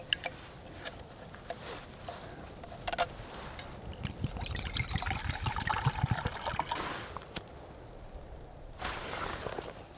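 Water trickling and pattering from a nearly frozen bottle, poured to heat for coffee on a trioxane-fuelled M71 stove stand in a cold mountain blizzard; uneven dribbling in the middle stretch, close by, with no talk.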